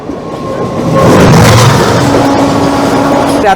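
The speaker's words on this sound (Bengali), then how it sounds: "লালগড় থেকে আসামের উদ্দেশ্যে চলা আবাদ আসাম এক্সপ্রেস ছুটে আসছে" The Lalgarh–Assam Avadh Assam Express rumbles past close by, the roar swelling and holding steady with a rattling, clattering undertone and a faint horn-like tone.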